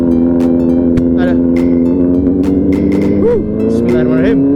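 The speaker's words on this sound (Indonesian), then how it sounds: "Pemanasan dulu Brody, ban terlalu dingin ya. Kita geber dulu ini" A vehicle engine revs hard to warm up cold tyres, a loud steady drone with rising pushes, while people talk over it.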